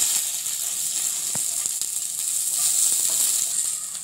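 Onions fry in hot oil in a kadai, a continuous bright hiss with faint crackles that holds steady throughout.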